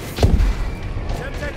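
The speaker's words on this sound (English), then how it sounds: "Bombing run clearing the way." Bombing run in Call of Duty: Advanced Warfare on the Detroit map, heard as a loud, close, deep blast early on, followed by a rumbling tail and faint electronic chirps.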